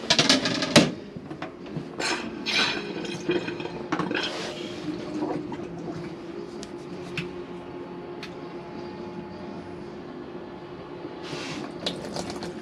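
Water runs and splashes into a Hymer Classic 514 motorhome sink after a few clunks and taps, then settles into a steady, quiet trickle.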